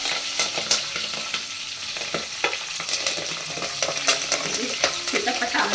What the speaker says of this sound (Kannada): ಎಣ್ಣೆ ಕಾಯ್ತಾರೆ, ಸಾಸಿವೆ ಹಾಕಿದ್ದಾರೆ